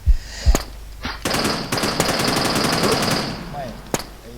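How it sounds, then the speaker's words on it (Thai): Gunfire in the WarZ video game: a couple of single shots, then a sustained rapid automatic burst for about two seconds, followed by another lone shot, loud and close. "โดนเดฟยิง โดนเดฟยิงไอ้สัตว์ เดฟเดฟรวยกระสุนไอ้เหี้ย"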